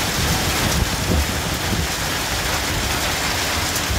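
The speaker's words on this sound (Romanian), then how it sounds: "Grindină de Paște." Hail falling during an Easter storm, a steady dense patter of ice pellets hitting surfaces, continuous and fairly loud throughout with no voices.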